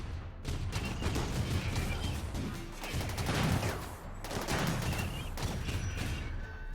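Dense, continuous gunfire from a RimWorld battle rolls on for several seconds as a near-constant crackling barrage of overlapping shots, loud and busy with brief dips.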